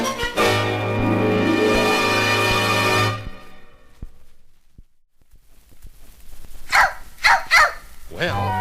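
After a long, loud stretch of voice, Lady the dog lets out three or four sharp barks in quick succession near the end, close and clear.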